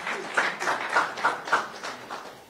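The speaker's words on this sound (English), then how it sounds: "Let's give him a big round of applause." A conference audience at a credit card launch event gives brief applause: a handful of moderately loud clap swells close together, fading within a few seconds, with no voices.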